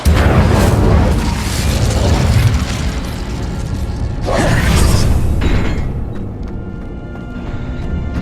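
Incendio fire spell cast in Hogwarts Legacy, a whooshing roar of flame amid loud rumbling game noise, with a bright burst swelling mid-clip and fading into crackles.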